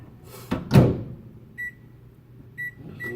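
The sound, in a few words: microwave oven running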